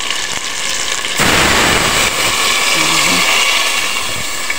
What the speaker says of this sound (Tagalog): pwede natin lagyan ng tubig niyan